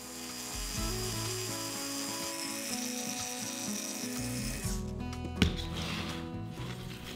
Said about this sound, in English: I'm using the Arbortech ball gouge to power carve the vessels.